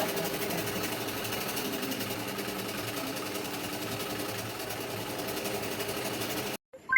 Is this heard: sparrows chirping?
no